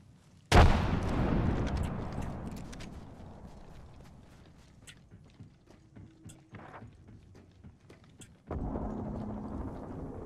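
Grenade explosion in the Apex Legends video game: one sudden loud blast that rumbles and decays over a couple of seconds, then quieter clatter and ambient noise, and a second burst of noise near the end.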